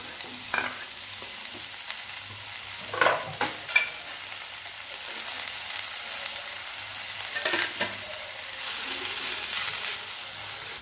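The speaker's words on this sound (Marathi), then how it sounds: "आता ह्याच कढईमध्ये थोडंसं तेल टाकून हे मेथी परतून घ्यायची" Fenugreek leaves sautéed in a little oil in a hot wok sizzle steadily, with a spatula scraping and stirring in repeated short bursts at close range.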